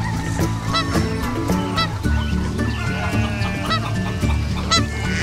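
Geese honk repeatedly and loudly at close range, mixed with clucking chickens and other farm fowl in a busy, continuous chorus.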